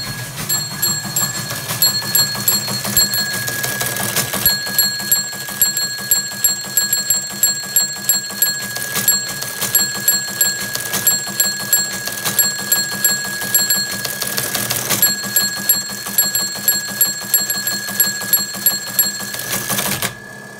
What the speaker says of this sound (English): what I'm going to send is the Jingle Bells song that uses all the figure shifts and the bells.